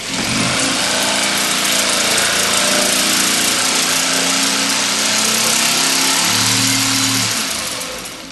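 A jigsaw with a sawdust-blowing feature cuts through wood. It gives a loud, steady, close-up buzzing drone that holds evenly for several seconds before easing off slightly at the end.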